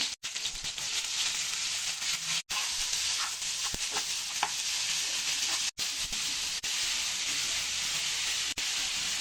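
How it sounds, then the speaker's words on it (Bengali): Bitter gourd slices fry in plenty of oil over high heat, making a continuous close sizzling hiss with a few brief sharp breaks and no talking. "করলাটা এরকম ভাজা ভাজা হয়ে গেলে নামিয়ে নিতে হবে"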